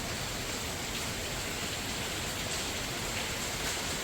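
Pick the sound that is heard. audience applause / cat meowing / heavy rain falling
heavy rain falling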